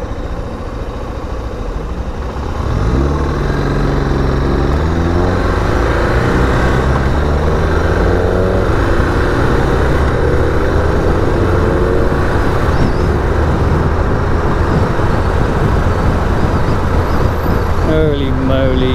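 A carburetted Suzuki DR650 motorcycle idles, then pulls away with its engine note climbing through the gears, heard close and continuous under steady wind rush for the rest of the ride.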